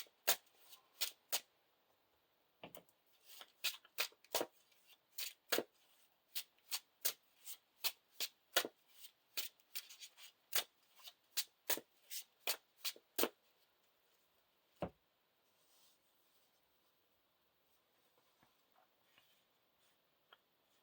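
Playing cards from a Lord of the Rings living card game shuffled by hand at a table, a fast series of crisp riffling snaps and taps, close and dry, thinning out toward the end with no talking.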